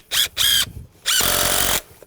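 A power drill drives screws to tack shed roof framing together, with two short close whirring bursts followed by one longer, louder run as a screw seats.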